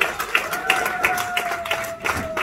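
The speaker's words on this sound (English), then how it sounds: "Give a round of applause again for Sister Priscilla." Applause from a gathered crowd at an anniversary celebration in London, steady clapping with a sustained tone running underneath and some voices mixed in, fairly loud and continuous through the whole moment.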